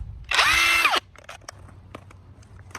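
A cheap brushless impact driver from Temu spins up briefly, a loud high-pitched motor whine that rises and falls over about half a second, followed by faint clicks and handling noises.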